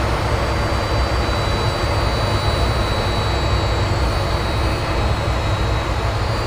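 Jet engines of an F-18 spooling up for takeoff at Portland, simulated in the Infinite Flight game: a steady, loud, broadband roar with a low rumble and faint high whine, unbroken throughout.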